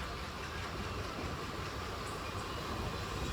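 A steady, dense rumble and rattle from inside a moving Mumbai local train, continuous and fairly quiet with no distinct voices.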